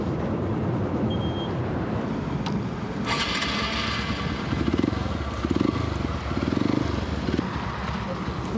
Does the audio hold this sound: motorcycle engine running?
yes